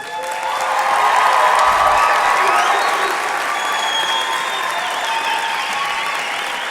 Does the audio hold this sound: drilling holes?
no